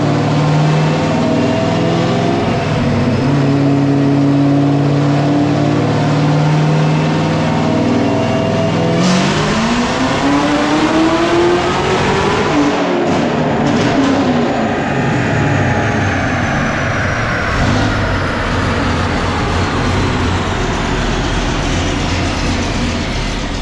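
A Chevrolet Camaro ZL1, a sixth-generation car, revs hard on a dyno, its engine note climbing steadily toward about 6,400 RPM before the throttle is released and the sound drops away, loud and continuous throughout.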